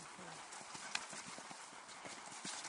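Horse hooves clip-clop steadily on the ground during a riding training session, moderately distant, with a brief whinny-like note and a coach's voice talking over the rhythmic footfalls.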